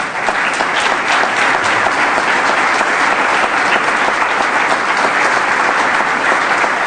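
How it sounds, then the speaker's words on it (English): An indoor audience gives fundraising co-chairs at a roundhouse renovation announcement a sustained round of applause, with loud, dense clapping holding steady for several seconds and no talking over it. "Would you please give them a hand?"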